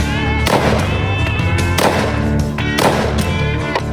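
An 85 grain .223 Varmint Express hunting round fired into drywall: three sharp, loud cracks about a second apart, each with a short ringing tail.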